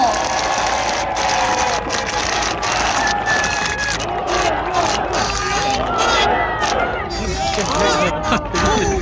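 A large outdoor crowd at an election campaign launch rally in Jeju, South Korea, claps and cheers in a dense, continuous roar, with amplified voices mixed in.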